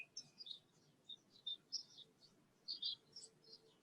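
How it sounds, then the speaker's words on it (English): Small birds chirp and tweet in short, high bursts, some louder and some fainter, scattered irregularly over a quiet, low background hum. "There's your birds again."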